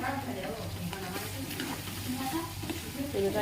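Crushed garlic and onion frying in hot oil for egg bhurji in a home kitchen, a steady sizzle with scraping stir strokes, a voice talking over it.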